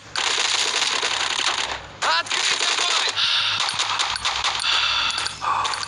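A silenced pistol in the mobile shooter Bullet Force fires in short muffled pops amid loud, dense game sound effects, with a brief metallic ring and a voice speaking over the action.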